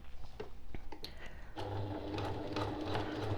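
A sewing machine basts a boxed fabric zipper pouch about a quarter inch from the edge, with a few soft handling clicks first, then a steady close, continuous stitching whir that runs to the end.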